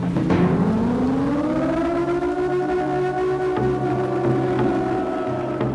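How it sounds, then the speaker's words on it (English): A loud horror video game siren wails steadily, rising at the start and then holding a long, eerie sustained tone with layered harmonics, no voices. "I worked hard to make sounds that express fear, especially the sound of the siren."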